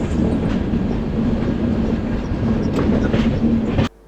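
The Vizag to Araku Vistadome train runs at speed, a loud steady rumble with rhythmic rail clatter from the wheels that continues unbroken and then cuts off abruptly near the end.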